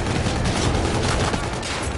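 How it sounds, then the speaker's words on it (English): Shotgun fire rings out in Call of Duty: Infinite Warfare, several close-range blasts packed into a dense burst of game gunfire, loud and with no talk over it. "I shot him twice with a shotgun. Close range."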